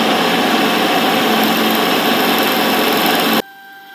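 A milling cutter slots a 3 mm aluminium plate for a pergola hinge, a loud, steady machining whine running unbroken for several seconds, then cutting off abruptly to a faint hum.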